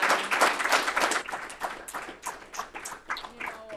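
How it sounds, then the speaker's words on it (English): Student presenters receive a round of applause from a school audience: scattered, moderately loud clapping with sharp individual claps that continues steadily for a few seconds. "another round of applause for them"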